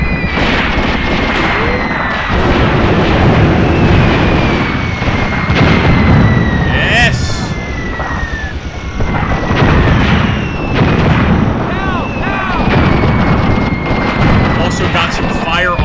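Booming artillery fire and explosions from a WW2 battle video game set in North Africa, dense and continuous with repeated heavy blasts and rumbling, layered with gunfire and whistling shells throughout.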